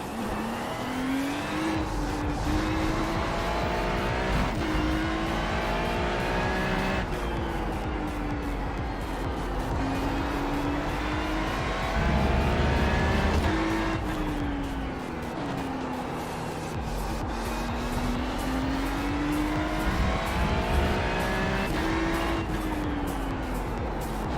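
Race car engine in the iRacing sim at Fuji, loud and continuous at close range, with repeated climbs through the revs and drops at each gear change, no talk.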